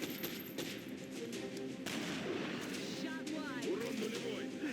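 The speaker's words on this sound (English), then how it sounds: "one of them does decide to pop out and everybody takes a pot shot" Gunfire from a squad of soldiers in the video game XCOM: Enemy Within, steady bursts of shots layered over game sound effects and a voice talking throughout.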